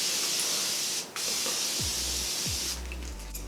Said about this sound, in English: for setting spray, I'm just going to take a little bit of the Morphe Continuous Setting Mist.